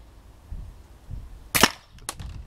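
A Sig Sauer P226 4.5mm CO2 air pistol is cocked: one sharp, close metallic snap, then a second smaller click a half second later, against a quiet room.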